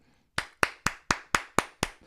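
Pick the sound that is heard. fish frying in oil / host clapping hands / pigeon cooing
host clapping hands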